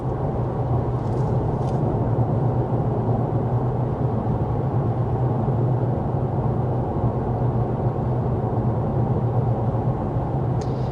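Inside a 2024 Honda Accord hybrid cruising at 55 mph with the fan on its lowest setting, a steady low road-and-wind rumble fills the cabin evenly, with no talking.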